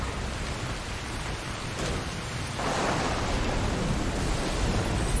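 Rain falling in the video game Death Stranding, a constant broadband hiss that swells slightly louder partway through, with no voices.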